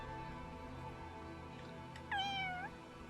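A black cat in the video game Fire Emblem Engage gives one clear, rising-then-falling meow late in the moment, loud and close over a steady bed of quiet game ambience.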